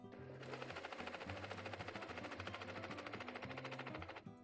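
A sewing machine stitches dress panels together, running in fast, even bursts of rapid needle clatter close by, with short pauses between seams.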